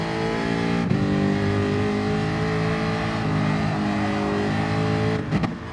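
A sim racing video game race car engine drones steadily at high revs during an endurance race, with brief gear-shift dips near the start and end, loud and close with no voices.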